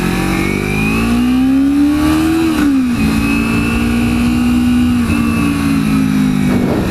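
A 2011 Kawasaki Ninja 250 engine revving nearby, its pitch rising, dipping sharply and then holding at a steady loud drone with a brief rev at the end.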